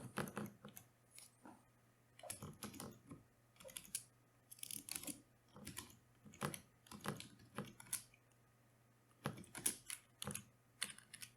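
Fingers type C++ code on a computer keyboard: quiet, close, uneven bursts of rapid key clicks separated by short pauses, with a steady low hum behind them and no talking.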